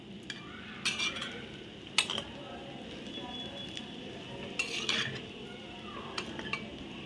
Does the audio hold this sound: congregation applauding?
no